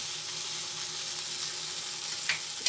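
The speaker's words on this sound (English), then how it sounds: "Now you're getting that nice sear on there" Top sirloin steak sears in a hot pan with a loud, even, continuous sizzle, ending with a couple of faint clicks near the close.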